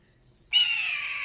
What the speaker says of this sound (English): the red-tailed hawk.